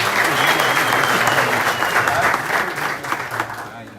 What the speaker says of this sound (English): So let's clap hands for him when I'm going to give this mic to him.